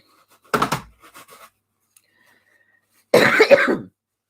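A person coughing at close range: a sharp cough burst, a few faint throat sounds, a pause, then a longer harsh cough near the end, with silence between.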